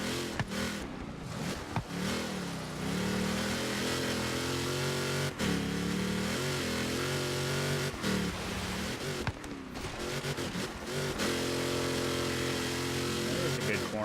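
A trophy truck's engine in a Baja 1000 racing game drones and revs continuously, its pitch sweeping up and down through gear changes and corners, with brief dips and a few knocks, while a voice occasionally talks over it.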